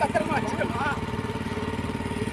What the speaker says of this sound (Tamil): இந்த சின்ன போட்டில் நாங்கள் எல்லோரும் வந்துட்டுருக்கோம்